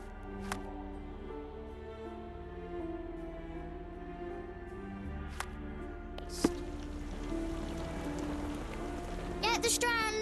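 Rain falls in a foggy London street scene in Sherlock Holmes The Awakened, a steady soft hiss under a low ambient drone and music tones, with brief voice fragments and a few sharp sounds near the end.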